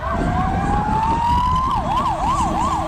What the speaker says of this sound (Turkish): Ambulans geliyor ambulans devam et ambulans